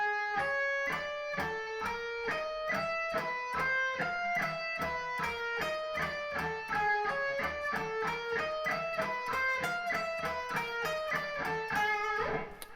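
A guitar plays a sweep arpeggio exercise across a pair of strings, a steady run of clean, evenly picked notes stepping up and down in pitch for about thirteen seconds, with no talking.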